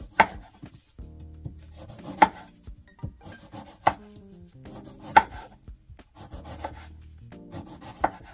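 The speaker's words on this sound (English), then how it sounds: "I'm gonna wash this lemon. We're gonna start by peeling it." A knife peeling a lemon on a board, with repeated scraping and rasping strokes broken by sharp taps and knocks, close and clear with no talk.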